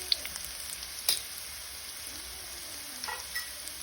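Onions sauté in a pan, a faint, steady sizzle with soft crackles and a couple of brief clinks, heard alone without talk.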